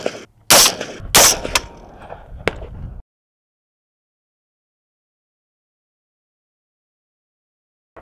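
Rifle fitted with a Leupold LCO red dot and DEVO magnifier firing two sharp, loud shots close together near the start, followed by a brief rattle and another crack, then silence.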